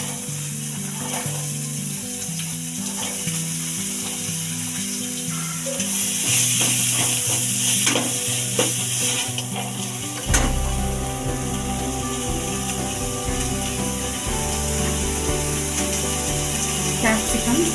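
Carrot, beans, capsicum and cabbage stir-fry for egg fried rice, a loud steady sizzle with repeated scraping and clinks of a ladle against the pan, as a voice speaks now and then over the cooking.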